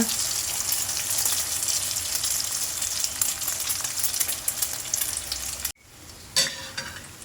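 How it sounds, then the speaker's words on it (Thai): Steady loud sizzling of beaten egg frying in hot oil for a Thai omelette, a dense crackling hiss that briefly cuts out and then resumes more quietly. "แล้วก็เทไข่ลงไปเลยค่ะ ค่อยๆลาดลงไปในกระทะนะคะ"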